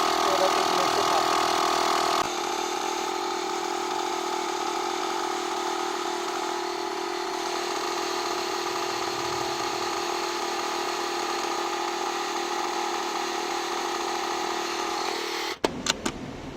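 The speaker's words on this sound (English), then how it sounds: "it makes a lot of noise because the fan is rotating inside and it is a compressor fan" A digital tyre inflator's compressor runs with a steady loud mechanical drone and hum close by, dips slightly after a couple of seconds, then cuts off near the end with a few clicks.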